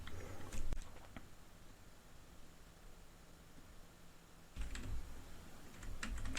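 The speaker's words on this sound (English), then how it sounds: "we will type systemctl start grafana-server" A computer keyboard is typed on to enter a terminal command, with a quick burst of close key clicks at the start, a quiet pause, then another run of rapid keystrokes toward the end.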